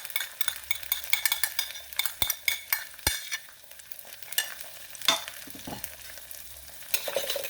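Chili paste, chili sauce and tomato sauce sautéing in a pan while a ladle scrapes and stirs with sharp metallic knocks over a steady, close sizzle.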